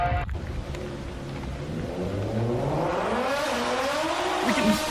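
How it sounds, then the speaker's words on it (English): A Suzuki Swift Sport engine straining hard while driven fast off road, a loud revving drone that climbs in pitch with tire noise and rough terrain rumble underneath, close and continuous. "We can really hear that engine working hard now."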